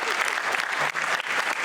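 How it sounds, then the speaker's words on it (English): Audience applause at a 40th anniversary celebration for a bicycle organization, a loud, close, continuous crowd of clapping hands with a few scattered cheers. "Let's give them a nice round of"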